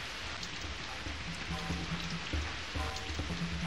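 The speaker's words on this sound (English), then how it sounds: "Ooh, rain!" Steady rain pattering on surfaces in the video game Lion, a dense continuous hiss of drops with faint low tones underneath, moderately loud throughout and no talk.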